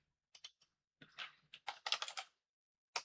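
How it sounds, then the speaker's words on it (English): Short bursts of quick key presses on a computer keyboard, soft and close, with brief pauses between clusters of clicks and a final lone tap, in a quiet room with no talking. "I can type it for you right here."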